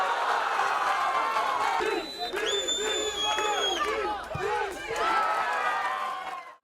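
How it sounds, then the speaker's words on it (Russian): A large crowd of mini-football fans cheers and shouts continuously during a final penalty shootout, with whoops and a rising roar, sustained throughout at a steady loud level. "трибуны болельщиков не смолкали"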